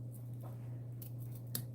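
Scissors snip through card paper for a greeting card in a few quiet, crisp cuts over a steady low hum in an indoor crafting setting.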